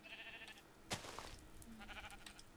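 A faint sheep bleat from a Minecraft-style video game, a short wavering cry heard quietly against a soft background.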